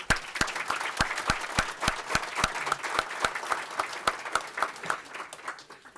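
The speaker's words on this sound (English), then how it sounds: "And I think you deserve a round of applause." An audience at a congressional breakfast event gives a steady round of applause, with dense, sustained clapping running evenly throughout and strong individual claps standing out near the front.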